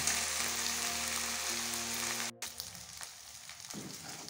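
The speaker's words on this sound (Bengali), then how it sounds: "আদা বাটা পেঁয়াজ একটু ভালো করে কষিয়ে নেব, যাতে এর কাঁচা গন্ধটা চলে যায়।" Ginger paste and onion sauté in a pan with a steady, soft sizzle, interrupted by a sharp clatter midway before the frying continues more quietly.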